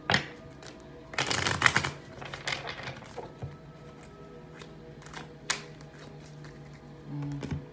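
Tarot cards are shuffled in quick riffling bursts, a dense flurry early on followed by scattered taps and softer shuffles, close and fairly quiet.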